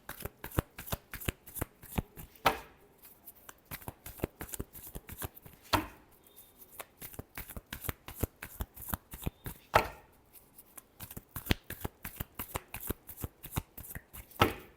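Tarot cards being shuffled again and again, a long run of crisp riffling bursts with short pauses between them. The sound is close and steady, with no voices over it.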